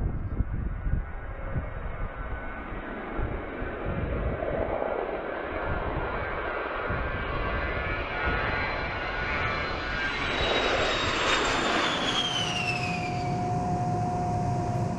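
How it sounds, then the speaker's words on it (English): A-10 military jet, a ground-attack aircraft practicing highway landings in Michigan's Upper Peninsula woods, roars loudly and steadily, its engine whine rising into a sweeping high-pitched tone as it passes close by. "practice landing a military aircraft on a civilian highway and then taking off again."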